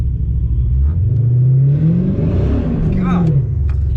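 A TorqStorm-supercharged Dodge Challenger R/T, left in drive and shifting on its own, accelerates hard with a loud, rising engine roar, a gear change near the midpoint, then climbs again, close up inside the car.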